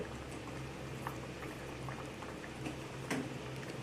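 Fish curry with potatoes, a Bengali alu diya macher jhol, simmering in a pot, giving a faint steady bubbling with a few soft pops and clinks throughout, no voices.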